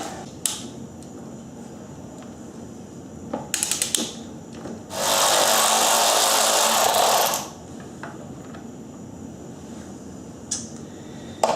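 A torque wrench ratchets and clicks on the rear sprocket bolts of a Honda VFR800Fi motorcycle, with scattered close metallic clicks and a longer steady rasping stretch in the middle. No one speaks.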